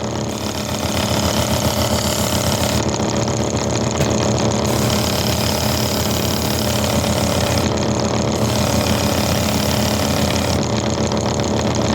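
A buffing wheel loaded with compound spins against a knife edge, giving a steady, loud motorized whir with a low hum that runs unbroken and close throughout.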